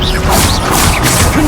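A Confringo fire spell explodes in Hogwarts Legacy, a quick loud crashing burst with whooshing swishes over about a second and a half of busy combat effects.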